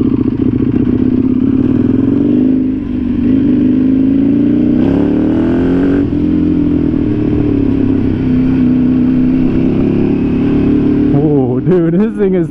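A motorcycle, either an EBR 1190 or a Kawasaki H2, being ridden with a loud, close engine roar that rises and falls in pitch as the rider works the throttle, with a sharp rev burst near the end.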